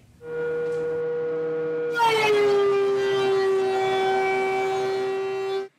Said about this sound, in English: You can clearly hear that the IsoTunes do a fairly good job at reducing the sound level from the planer